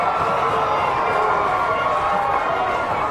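A stadium crowd at a rugby league grand final between Malta and Niue roars in one continuous, dense wall of cheering after a try.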